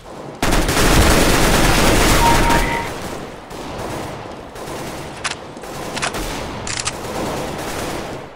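Gunfire in Counter-Strike: Global Offensive team deathmatch, loud rapid bursts and a sustained fusillade up close, followed by scattered single shots and short volleys.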